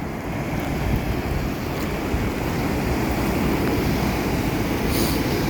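Strong waves roar at the Kizhur estuary in Kasaragod during heavy rain, a dense continuous rumble of surf mixed with rushing water and wind buffeting the microphone.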